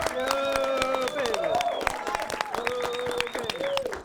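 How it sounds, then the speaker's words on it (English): A studio audience at a late-night talk show breaks into sustained clapping. Voices call out and talk loudly over the steady applause throughout. "Round of applause for Fred"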